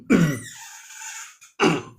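A man coughs and clears his throat twice, a harsh rasping burst at the start and another about a second and a half later, close and loud, with a quiet breathy pause between them.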